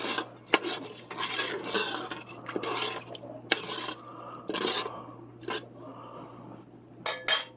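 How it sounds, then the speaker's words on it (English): Seasoned rice stirred with a spoon inside an electric pressure cooker pot, giving soft rasping scrapes and occasional sharp clicks of the spoon against the metal, close, with no voices. "And then I'm going to take a spoon and I'm just going to stir it."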